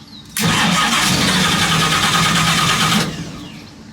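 A hot rod car engine cranks and catches, roaring loudly for under three seconds with a rough, uneven running note before cutting out and fading.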